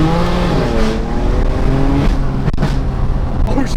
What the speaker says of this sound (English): full titanium single mid-pipe Sencal exhaust